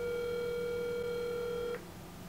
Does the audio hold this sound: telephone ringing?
yes